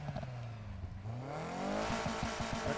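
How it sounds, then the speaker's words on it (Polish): A car engine in Need for Speed Heat revs up with a rising exhaust drone, then settles into a rumbling, pulsing idle; the tone sounds synthetic. "nowy dźwięk wydechu. Mogę sobie odpalić auto."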